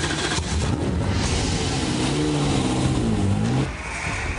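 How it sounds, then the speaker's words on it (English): A V8 Supercar race car engine revs hard with a loud, throaty roar whose pitch swings up and down repeatedly before dropping away near the end. "The V8 Supercar has a real distinct sound."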